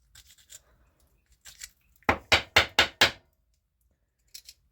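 A screwdriver taps debris out of the muffler of a Stihl FS55R string trimmer: faint scraping at first, then five sharp, evenly spaced metallic knocks close by, and one last light tap after a pause.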